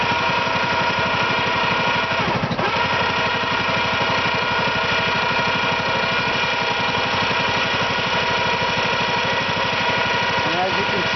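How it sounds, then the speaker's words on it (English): A winch mounted on a Honda ATV reels its cable onto the spool, giving a steady, continuous motor drone with fine rhythmic ripple, close and loud throughout, with a brief clunk near the start. "the winch is rolling itself on to the spool nicely"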